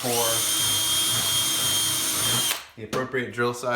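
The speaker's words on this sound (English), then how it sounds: "I'll take my number 30 drill bit" A power drill with a number 30 bit, drilling rivet holes in a composite cowl of an experimental airplane, whines at high speed for a couple of seconds, then stops abruptly, followed by short bursts of the motor spinning down.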